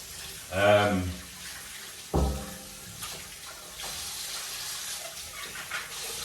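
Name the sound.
hot water running from a tap for hand washing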